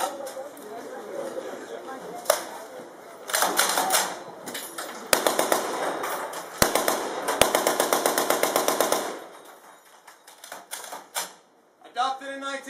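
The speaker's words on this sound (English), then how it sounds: "the M2 50 caliber machine gun is still in use in places today" M2 .50 caliber machine gun fired at an Independence Day WWII re-enactment, loud sharp bursts of rapid rattling shots with single cracks between, echoing outdoors while a voice talks over the gaps.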